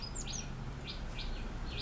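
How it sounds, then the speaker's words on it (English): A purple-rumped sunbird in a Sri Lankan home garden gives several short, high chirps at an even pace over a steady wash of evening background noise. "So this is the purple-rumped sunbird."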